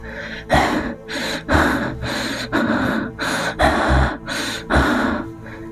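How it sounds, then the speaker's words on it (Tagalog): Heavy, rhythmic breathing from several soldiers, a series of loud gasping inhales and exhales repeating steadily and close by. "tanging paghinga ng mga sundalo ang iyong maririnig"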